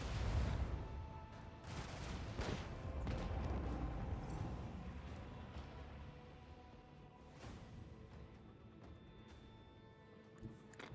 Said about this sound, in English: I want to hear macro cannons roar.